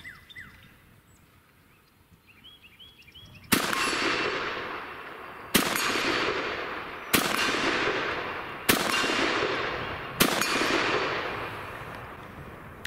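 A Norinco Type 56 SKS rifle firing five single rounds outdoors, each loud close crack followed by a long ringing echo, spaced about one and a half seconds apart, with faint birdsong before the first shot.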